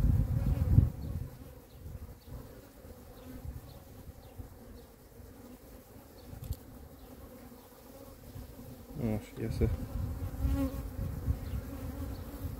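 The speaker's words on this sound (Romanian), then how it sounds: "Da, e plin de albine, deci are 20 de rame de albine." Honeybees buzz around an open hive full of frames, a dense, steady drone close by that swells near the end, with a person briefly speaking over it.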